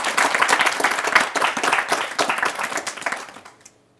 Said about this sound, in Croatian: Pljesak.